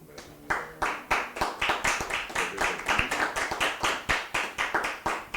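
An in-person audience at a conference on competition law claps in a rhythmic, unison pattern, with sharp, evenly spaced claps repeating steadily for several seconds.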